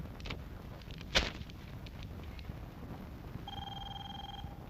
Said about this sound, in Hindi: मंत्री पुरुषोत्तम का फोन है